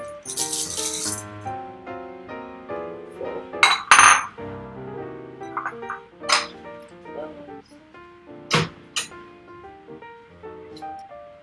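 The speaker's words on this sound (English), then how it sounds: "So we're going to go ahead and add the chocolates in there." Pieces of chocolate tumble into a warm bowl for a classic French chocolate soufflé, making a series of close, bright clinks and rattles against the dish, with a few sharper knocks mixed in.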